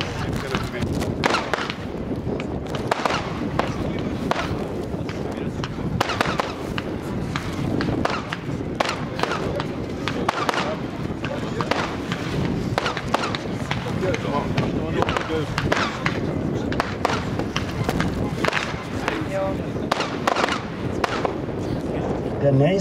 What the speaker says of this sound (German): Dann kommt 49 Schuss 30 mm Variety Crosset.